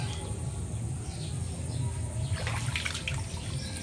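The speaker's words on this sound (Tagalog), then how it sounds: "malakas talaga yung agos eh." Strong river current rushing steadily around a sinking bamboo hut, a dense constant wash of flowing water that stays loud and unbroken from start to finish.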